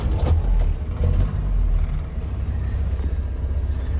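A 1972 Land Rover Series III engine cranks and catches, then settles into a loud, rough idle with low rumbling that carries steadily throughout.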